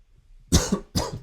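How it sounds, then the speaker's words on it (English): Two sharp coughs close to the microphone, the second following quickly after the first, with quiet before them. "A little bit of a cough there."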